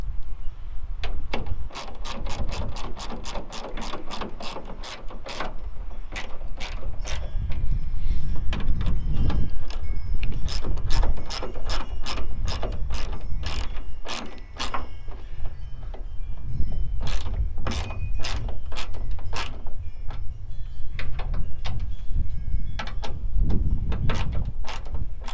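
A hand ratchet snugging down the plastic-mounted taillight bolts on a Ford F250, giving repeated quick runs of crisp clicking with short pauses between bursts, close and clear over a low background hum.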